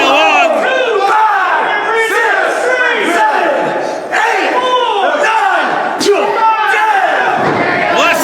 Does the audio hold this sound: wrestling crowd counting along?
yes